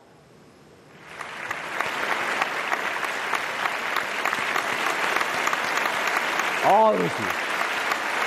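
A studio audience on the Piyara Ramzan iftar transmission bursts into sustained applause after a brief pause, steady clapping holding for several seconds while a host's voice briefly speaks near the end.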